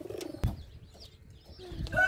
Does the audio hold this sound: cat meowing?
no